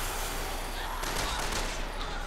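Rapid bursts of gunfire from the Resident Evil 6 video game, played in co-op on professional difficulty, fill the clip as a loud, dense fusillade with no pause.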